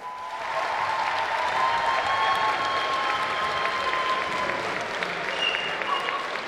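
Audience applause for a dance team at a dance awards show, a steady, dense wash of clapping from a crowd that holds evenly for several seconds.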